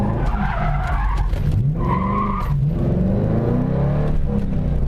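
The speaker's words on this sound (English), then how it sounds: "Like right here, I could do my cool U-turn." A rear-wheel-drive manual car skids through a tight U-turn, tires scrubbing loudly over a revving engine whose pitch rises and falls, continuous and close for about five seconds with no talk.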